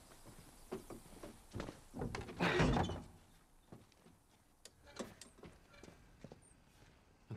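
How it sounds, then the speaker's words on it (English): A door closing in The Last of Us remake, a single heavy thud in the middle of quiet indoor game ambience with scattered faint knocks and footsteps. "Can you close the door?"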